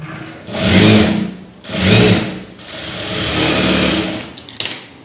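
A sewing machine stitches the lining of a blouse in three close, loud runs, each rising and easing off, with a few light clicks at the end.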